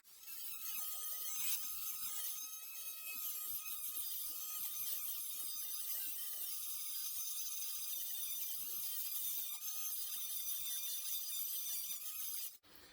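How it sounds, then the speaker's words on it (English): A metal part of a model aircraft retract being ground down with a small rotary power tool: a steady, high-pitched continuous whine that runs without a break until it stops abruptly at the end. "I'll turn the sound down and we'll just grind this up"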